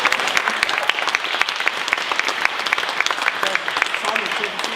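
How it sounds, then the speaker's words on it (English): A crowd claps at an end-of-course Prince's Trust Team programme event in Salisbury, with individual sharp hand claps clearly audible in a brisk, moderately loud, uneven stream. "I think he should be applauded for this."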